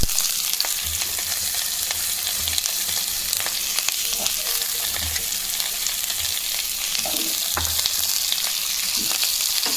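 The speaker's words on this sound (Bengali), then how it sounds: "ফুলকপিটা দেখুন ভাজা ভাজা হয়ে গেছে" Cauliflower frying in a pan for a paneer and cauliflower curry, a steady close sizzle with occasional stirring scrapes and clicks throughout, no voices.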